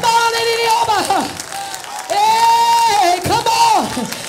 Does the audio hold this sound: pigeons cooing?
no